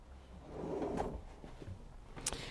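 A large storage drawer under the bed of a 2022 Tessoro 463 camper van slides open with a low rolling rumble and a soft knock, quiet and close.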